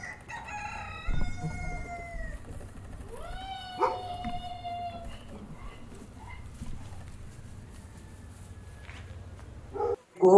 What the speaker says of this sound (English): Very beautiful cocks.